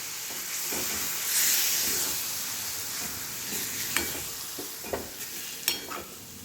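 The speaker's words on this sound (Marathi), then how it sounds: "आता ग्रेव्हीमध्ये आपण केळे टाकून घेऊ आणि चांगलं हलवून घेऊ ह्याला." Raw banana pieces stirred into simmering vegetable gravy, a soft steady sizzle and hiss with scattered scraping clicks from the spoon against the pan, quiet and close.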